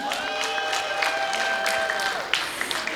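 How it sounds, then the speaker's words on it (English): An audience claps steadily during a vote of thanks, a full wash of applause with a few sharper claps and light cheering mixed in, continuing throughout. "So a huge round of applause for them."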